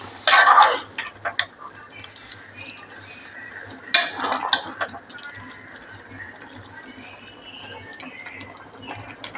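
Fish curry gravy stirred in a pan with a spoon, giving a few clattering scrapes and clinks against the metal, louder at the start and again midway, then a soft steady background with light taps.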